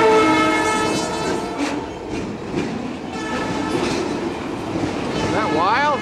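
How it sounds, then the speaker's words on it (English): A train passes close by, loud and rumbling, with rail clatter throughout and a brief horn note near the end. "Oh, train's coming again."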